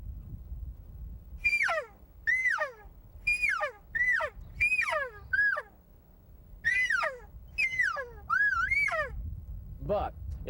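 Nine rising-and-falling mewing calls from a game call imitate a generic elk cow call, sounded in a loose rhythm over low rumbling background noise, close and fairly loud.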